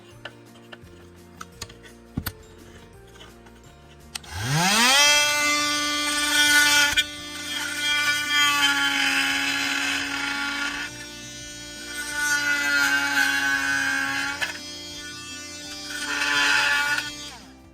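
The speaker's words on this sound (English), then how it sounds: "take your multi-tool, and you just take it down and cut it just like so" A high-speed rotary multi-tool spins up and cuts through plastic parts on a 1/16 Bruder CAT skid steer toy, a loud steady whine with pitch dips as the bit bites, after a few faint clicks at the start.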